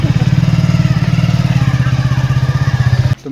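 A motorcycle engine runs close by in a village, chugging in a loud, even rhythm of rapid thumping pulses before it cuts off abruptly near the end.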